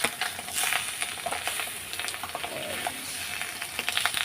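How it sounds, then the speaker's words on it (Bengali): Fish roe frying in a pan with salt and turmeric, a close, dense sizzle full of rapid crackling pops and spits that runs without pause, no voices. "আর এই যে মাছের ডিমগুলো ভাজা বসিয়ে দিয়েছি"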